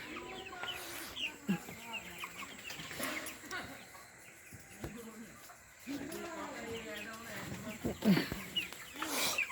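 Chickens on a poultry farm cluck and call repeatedly at close range, some sharp squawks standing out, while a person talks.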